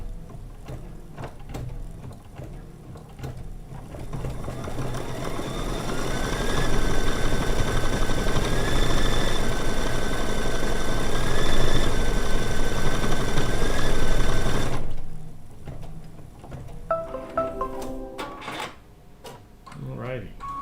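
A sewing machine running a tack-down stitch on a scrap of fabric, a close, steady mechanical whirring hum lasting about ten seconds, then stopping for clicks and handling noises, with a person talking.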